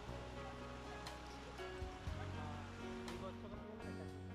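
Badaghagara waterfall in Keonjhar, Odisha, roars as a steady, dense rush of falling water close by, with a voice talking over the constant wash.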